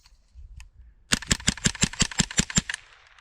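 Rifle emptied in a rapid magazine dump loaded with tracer rounds in the snow: about ten sharp, evenly spaced shots in a quick burst after a brief quiet lead-in, then a short fading echo.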